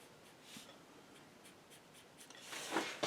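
A marker scratching across paper while sketching a fairy's ears, faint soft strokes in short repeated bursts, a louder rubbing stroke near the end.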